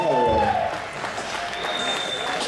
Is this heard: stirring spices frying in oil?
no